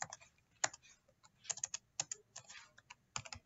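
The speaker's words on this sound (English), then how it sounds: "And I could type in the IP address for the reader" An IP address is typed on a computer keyboard in quick, irregular clusters of soft key clicks, close but quiet, with short pauses between bursts.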